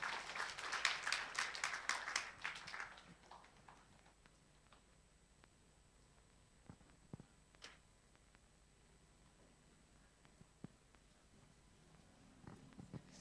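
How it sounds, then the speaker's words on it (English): Audience at a judicial wellbeing workshop in Bali applauding the moderator and speakers, a brief burst of clapping that fades within a few seconds into a quiet room with scattered faint knocks. "give some applause to the moderator and the speakers"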